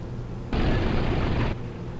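A tank cannon shot in Men of War Assault Squad lands as one loud, broad blast lasting about a second, then cuts off abruptly over a low background rumble.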